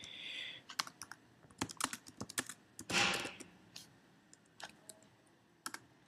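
Keys click on a Mac keyboard as a search is typed, with irregular bursts of close, crisp taps, a brief pause and a louder clack mid-sequence over a quiet background.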